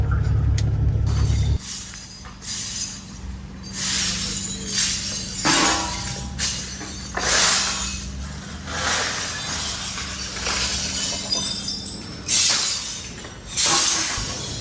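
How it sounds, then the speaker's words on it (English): Repeated loud crashing and shattering bursts of big plastic pieces breaking and tumbling, like glass, coming in waves over a low engine rumble. "It sounded like glass, but it was like big pieces of plastic"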